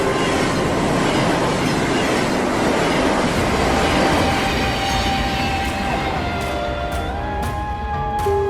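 A KRL commuter train runs steadily on its rails, a loud continuous rumble with wheel noise and a rising metallic squeal toward the end, with no voices.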